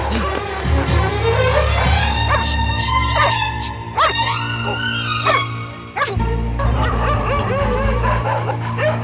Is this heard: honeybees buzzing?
no